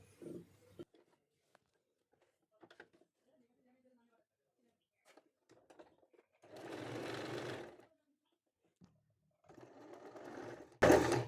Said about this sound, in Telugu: ఇప్పుడు మీరు స్టిచ్చింగ్ అనేది స్టార్ట్ చేయండి